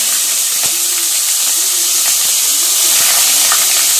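Cinnamon and clove sizzling in four spoons of hot oil, a loud, steady close hiss with faint tonal traces beneath and no words spoken.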